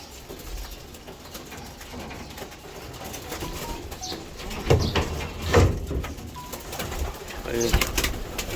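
Racing pigeons cooing in a loft, soft low coos and a few wing flutters rising in short bursts near the end over a quiet room hum, with someone talking between them.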